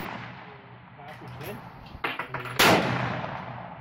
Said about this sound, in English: I've only just got this pretty boring single shot shooting footage